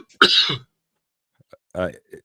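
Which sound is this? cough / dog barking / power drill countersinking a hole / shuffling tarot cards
cough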